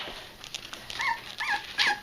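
Puppies whimper close by in a few short, rising and falling high-pitched whines, separated by soft snuffling and small sounds, each whine about a third of a second long.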